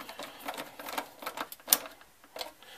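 A CPU heatsink being screwed down onto its back plate inside a Dell Inspiron 531 desktop: close, irregular metallic clicks and small scrapes from the screwdriver and bracket, with one sharp tick standing out.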